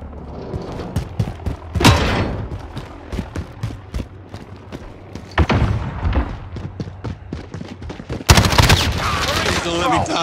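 Bursts of gunfire and thuds from the Die Hard: St. Petrograd video game, loud and repeated in clusters, with a heavy sustained barrage near the end and voices speaking between the shots.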